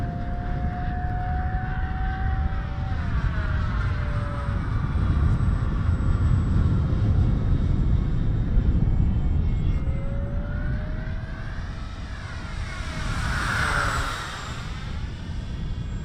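An RC model airplane flies overhead, a steady whirring motor hum whose pitch glides down and rises again as it passes, with a brief louder swell near the end, and no one speaks.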